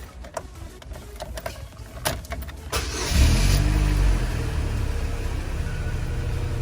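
A 2005 Chevrolet Cavalier starts after a few clicks and a short whirring crank, its engine catching into a loud, steady idle that continues to the end.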